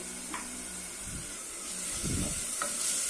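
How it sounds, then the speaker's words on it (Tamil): Curry leaves and slit green chillies frying in a pan for chicken pepper rasam, a continuous hiss of sizzling oil with a couple of soft stirring scrapes and light knocks, close and moderately quiet. "இது பச்சை வாசனை போக வதக்கிக்கலாம்"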